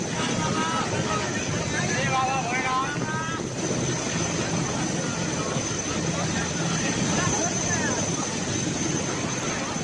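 A helicopter hovering during a ropeway rescue at Deoghar: a continuous droning engine and rotor roar that stays loud and steady throughout, with voices talking over it.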